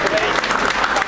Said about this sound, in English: I think he deserves a warm round of applause.